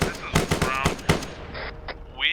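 Bursts of video game gunfire from a Zeus op, a few close rapid volleys followed by quieter single shots, with a voice speaking over it.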